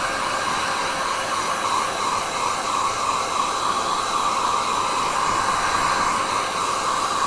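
A hair dryer blows steadily on a wet watercolour winter landscape, giving a loud, even whooshing roar with a fan whine that holds throughout, and no talking.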